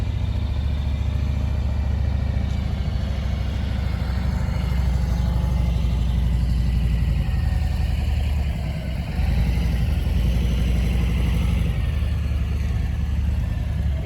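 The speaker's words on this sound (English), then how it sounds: "We also have an aftermarket exhaust." A 2006 Harley-Davidson Road King Classic with an aftermarket exhaust idles nearby, its low, throbbing engine rumble running steady and loud throughout with no voices.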